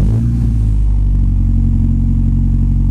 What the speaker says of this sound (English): Let's hear the exhaust note and how loud it actually is.